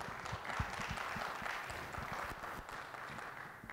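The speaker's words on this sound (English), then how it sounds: "Let's give a round of applause for our panelists" Audience applause for the panelists at a law conference, a steady dense patter of many hands clapping throughout, moderately distant with no talk over it.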